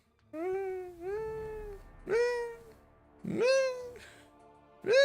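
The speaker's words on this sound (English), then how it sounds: "Is there a cat in here?" A cat meows four times in drawn-out, rising-and-falling calls spaced about a second apart, close and clear against a quiet room with no one talking.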